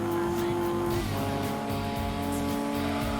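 A 390 horsepower Nissan Skyline roars through a race in Gran Turismo 2, its engine droning steadily with shifting pitch and a hint of tire squeal, loud and continuous throughout.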